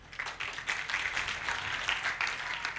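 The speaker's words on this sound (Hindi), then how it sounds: "7-8 लोगों ने ताली बजाई है," Sparse, uneven clapping from a handful of audience members at a Delhi kavi sammelan, thin scattered claps rather than full applause, continuing for a few seconds without speech.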